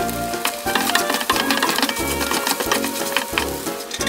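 Shrimp shells stir-frying in oil in a hot wok, a dense continuous sizzle with crackling and scraping of the stirring utensil throughout, close and loud.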